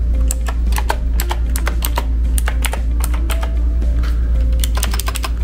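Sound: typing on Marvo Scorpion KG965G mechanical gaming keyboard

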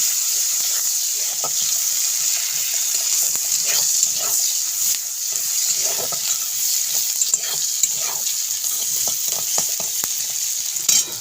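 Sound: onion frying in hot oil

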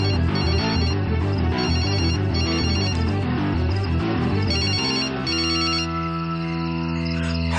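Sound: phone ringtone ringing

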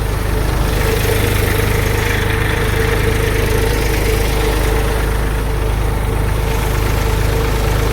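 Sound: tractor engine idling

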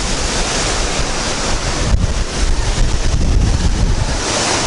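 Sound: sea surf waves on the Baltic coast at Rauschen

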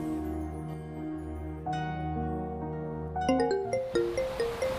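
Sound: mobile phone ringing with incoming call

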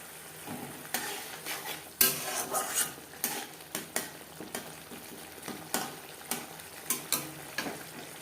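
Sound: spices being fried and stirred in a pan

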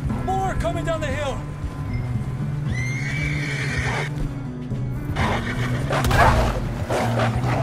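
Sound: wolves attacking in Red Dead Redemption 2 video game

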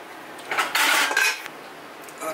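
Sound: idli stand placed into a pot of hot water

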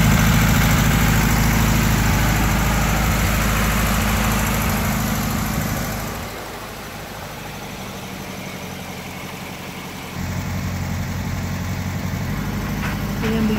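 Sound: 1971 VW Type II bus engine idling, warming up in rain

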